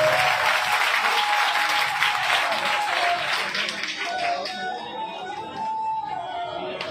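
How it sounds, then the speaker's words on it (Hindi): Loud, dense applause from a gathered crowd welcomes guests at a Hindu religious discourse event honoring Sant Ravidas, sustained throughout and easing slightly toward the end, with a faint voice and hum beneath. "और मैं चाहता हूँ एक बारी और बुलंद सी जरा जोरदार तालियां हो उनके स्वागत के लिए।"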